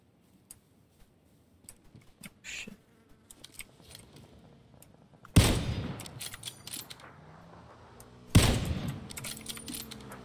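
Two loud, sharp bursts of gunfire ring out in a video game shootout inside a warehouse, breaking through a quiet stretch of faint ticking and small clicks.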